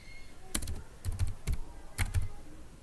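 Close, quiet typing on a computer keyboard while entering marks into an Excel spreadsheet, with short bursts of key clicks separated by brief pauses and no talking.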